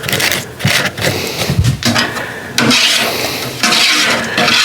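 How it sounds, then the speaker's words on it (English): Sweet potato mash, about five gallons, stirred in a large vessel, giving scraping, knocking and sloshing sounds that change in texture partway through. "give it a stir"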